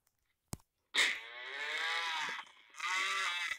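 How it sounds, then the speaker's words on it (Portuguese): A cow moos after being struck in the game SurvivalCraft 2: a sharp hit, then two long, loud, drawn-out game moos with a brief dip between them and no talk. "O que acontece se eu bater na vaca?"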